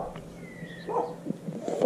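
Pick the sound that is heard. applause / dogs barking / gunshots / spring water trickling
dogs barking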